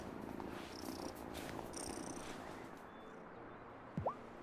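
Soft, continuous purring of a cat in the video game Wylde Flowers, low and steady at moderate distance, with light ambient game sounds and a brief tonal chirp near the end.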